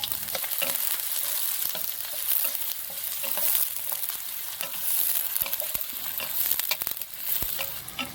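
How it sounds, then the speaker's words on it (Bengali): Chopped onions with cumin fry in hot oil in a wok, a dense close sizzle with repeated stirring clinks and scrapes throughout, no voices. "প্রথমে কড়াই গরম করে তেল দিয়ে দিলাম, এরপরে জিরে ফোড়ন দিয়ে পেঁয়াজ কুচি দিয়ে খুব সুন্দর করে ভেজে নেব।"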